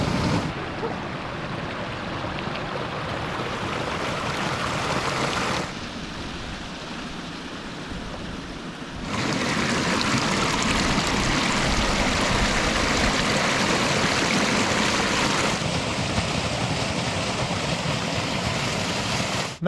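The Waikato River rushes steadily beside hot springs, a loud continuous broadband roar of flowing water that dips in level briefly and then returns, with no voices.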